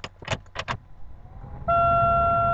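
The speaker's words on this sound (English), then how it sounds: "I'm just going to turn the air on" A car's air conditioning fan switches on partway through, jumping to a loud, constant whirring drone with a steady tonal hum, after a few short knocks and rustles inside the cabin.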